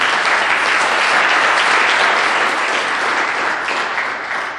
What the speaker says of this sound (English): Big round of applause for our panel, please.